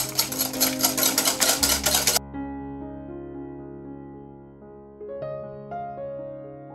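Eggs and sugar are stirred together in a bowl for madeleine batter, beginning with about two seconds of rapid, steady scraping and clinking, then giving way to quieter sustained tones with only faint activity.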